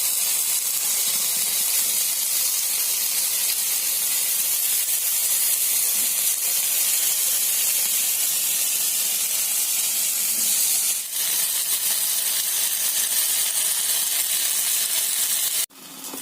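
Paneer tikka shallow frying in a pan, a loud, continuous, close sizzling hiss that holds steady throughout, with a brief dip partway through and a sharp clack just before the end.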